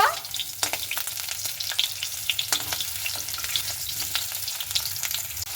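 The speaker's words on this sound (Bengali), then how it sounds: "তো দেখুন এইভাবে একটু হালকা করে উল্টে পাল্টে ভেজে নেব" Raw banana pieces fry in a small amount of oil in a pan, giving a steady close sizzle with scattered crackles and pops as they are gently turned.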